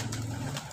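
A pigeon coos in a low, soft, throaty burble, close by and alone, lasting under a second.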